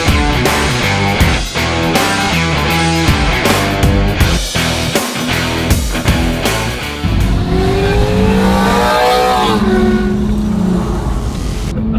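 Cars at a meet beside Lake Superior, loud engines revving and roaring close by in steady bursts, with tyre noise and rising engine pitch as one pulls away, and no talk.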